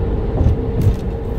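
Inside a car driving home, a low steady rumble of engine and road noise fills the cabin, close and even, with no talking.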